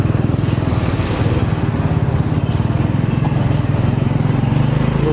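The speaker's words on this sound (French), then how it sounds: "On est en moto." Steady engine drone of a motorcycle being ridden through a city in Pakistan, a continuous throbbing rumble held at close range for the whole stretch with a faint voice underneath.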